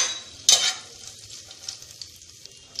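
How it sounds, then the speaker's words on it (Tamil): Fennel seeds and stone flower fry in hot oil for a kuruma, a steady light sizzle and crackle with one sharp clatter of a spoon or pan near the start, close and alone without talk. "இது எல்லாமே பொரிஞ்சு அந்த வாசனை வரணும்."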